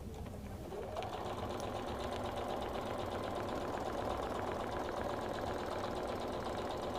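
A computerized quilting sewing machine running the QuiltMotion X system starts up and settles into fast, even mechanical stitching, a steady close hum with rapid needle clatter and no talk.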